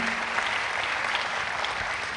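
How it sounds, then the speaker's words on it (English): Steady applause from a forum audience after a presentation, a dense, fairly loud sheet of clapping with no voices over it. "Another round of applause for him, ladies and gentlemen"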